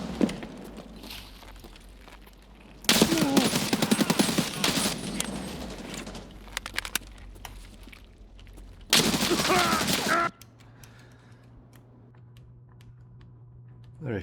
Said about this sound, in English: There is shooting here, seriously.